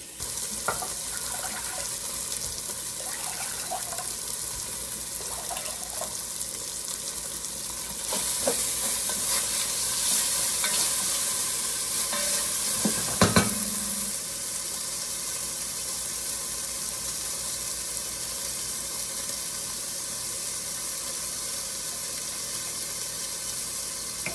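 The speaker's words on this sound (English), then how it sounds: "While the chicken is cooking, we actually need to make our chicken broth as well." Chicken cooking in a pot for jambalaya gives a steady sizzle with occasional stirring scrapes, joined midway by running tap water and a brief clatter, all close with no talking.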